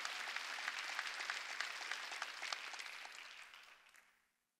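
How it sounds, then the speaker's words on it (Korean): A church congregation applauds during a Wednesday worship service, a dense, steady clatter of clapping that holds evenly for a few seconds and then fades out. "하나님께 박수."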